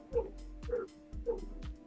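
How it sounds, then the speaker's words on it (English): Three short, sharp dog barks spaced evenly and fairly close, each a quick yap with a low thump, against a low steady hum in an indoor room. "Why is my dog barking?"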